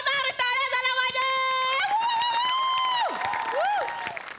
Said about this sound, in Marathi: प्लीज जोरदार टाळ्या झाल्या माझ्या